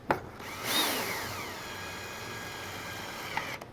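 A cordless drill whines during assembly of a small Birch Grove table: one quiet, rising motor whir with a thin tonal hum that holds steadily before it trails off.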